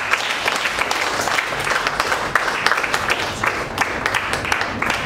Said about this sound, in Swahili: Pigia Yesu makofi yako mazuri.